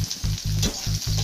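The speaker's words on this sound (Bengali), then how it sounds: "কড়াইতে তেল দিয়ে দিয়েছি, তেলটা গরম হওয়ার পর দিয়ে দেব পেঁয়াজ।" Onions frying in hot oil in a wok, giving a steady, close sizzle with rhythmic pulses of stirring and crackle throughout, and no voices.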